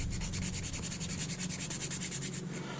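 A wooden arrow shaft being sanded, with rapid, even back-and-forth rubbing strokes in a steady rhythm, close and fairly quiet, with no voices.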